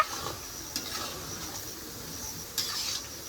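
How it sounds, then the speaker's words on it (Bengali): Spices are sautéed in a pan for a goat meat curry, giving a soft, continuous sizzle with occasional scraping and stirring. The sound is moderately close, with no talking. "খাসির মাংস রান্নার জন্য মামি এই যে সব মশলাগুলো সুন্দর করে কষিয়ে নিচ্ছে"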